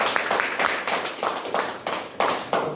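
Audience clapping comes in uneven bursts of sharp hand claps, moderately close, rising and dipping over a few seconds with no speech over it.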